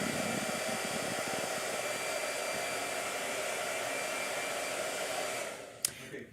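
A blow dryer roars steadily at close range while drying a watercolor painting, then cuts off near the end with a brief click.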